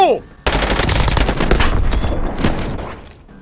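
Rapid automatic paintball gun fire in the Warzone video game, a dense, loud burst of continuous shots that starts abruptly and runs steadily before tapering near the end.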